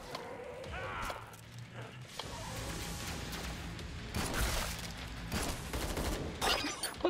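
Bursts of video-game gunfire from Killing Floor 2 rattle at moderate volume amid other game noise, growing denser toward the end.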